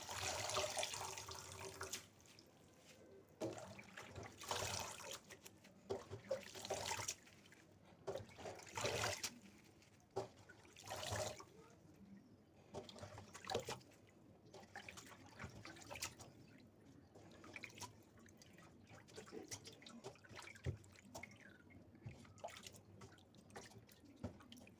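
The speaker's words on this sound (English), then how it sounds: "I'm going to put it here in the sieve so that it can drain the water" Water drains from kunde sitting in a sieve, heard as faint, irregular drips and soft trickling in a quiet room.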